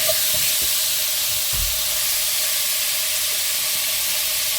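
Beef pieces browning in a hot pan give off a steady, dense sizzle and hiss, close and even throughout, with a few soft knocks of the meat being moved.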